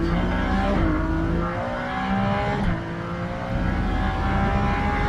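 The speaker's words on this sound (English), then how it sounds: "You can hear him short shifting on the exit of the corner." A Ferrari Challenge race car at Sonoma Raceway short shifting out of a corner, its engine loud and close, climbing steadily with quick gear changes and brief dips in pitch.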